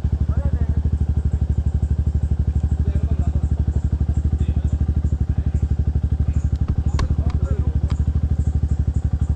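A motorcycle engine idling close up on a trail, its rapid even putter continuing throughout, with a few clicks and clatters partway through.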